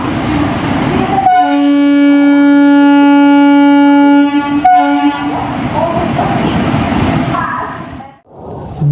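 A WDP-4D diesel locomotive from Golden Rock shed hauls the Sethu Superfast Express, a long sustained horn blast sounding loud and near over the steady roar and rumble of the moving train and its coaches.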